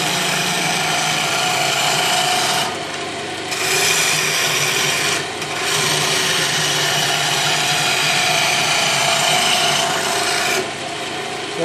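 A wood lathe turns a red oak walking staff, giving a steady rasping, scraping hum from the spinning wood, broken by short pauses and changes as the tool lifts off and returns.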